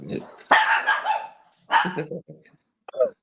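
A dog barks in loud, sharp bursts close by, with growling tones, mixed with people's voices.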